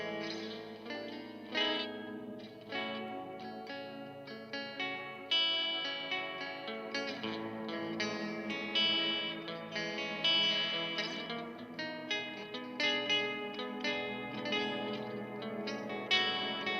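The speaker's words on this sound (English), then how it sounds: "This is their ambient reverb that does kind of your modular All thing." Sustained guitar-like tones washed in heavy ambient reverb from an effects pedal, notes blooming and overlapping into a shimmering, echoing pad that swells with each new attack.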